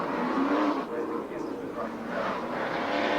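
A Škoda 120 race car fitted with a rear-mounted V8 driving through a Porsche transaxle roars steadily at the track, a loud continuous engine drone with a slight dip midway as a voice talks over it.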